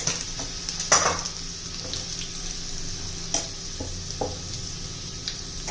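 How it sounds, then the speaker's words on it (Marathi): Mustard seeds, cumin, garlic and asafoetida sizzle in hot oil for a ridge gourd chutney tempering, a steady close frying hiss with a few sharp spits and pops, no voices. "त्यात मोहरी घालायची आहे, थोडं जिरं घालायचं आहे, लसूण घालायचं आहे"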